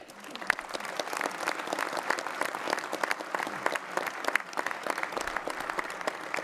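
Steady applause from an audience at a New Year's greetings ceremony in Val d'Oise, thanking the thirty musicians of the departmental wind band, dense and continuous clapping throughout.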